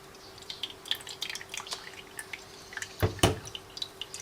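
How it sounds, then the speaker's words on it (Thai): Homemade herbal water for a natural hair dye drips and trickles through a strainer, with faint scattered droplets and one louder splash near the end, quiet and close. "ให้เรากรองในส่วนของน้ำค่ะ น้ำที่เราทำไว้เมื่อกี้นะคะ"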